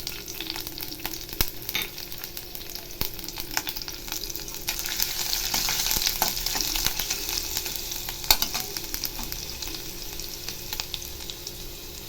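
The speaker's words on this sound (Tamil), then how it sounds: "சோம்பு நல்லா பொரிஞ்சிச்சு பாருங்கள்" Fennel seeds and ginger fry in hot oil in a kadai, giving a steady close sizzle with crackling pops and occasional stirring scrapes, heard alone with no talking.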